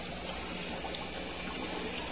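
Tap water pours steadily into a home aquarium during a water change, a continuous close splashing gush that fills the whole stretch with no talk over it.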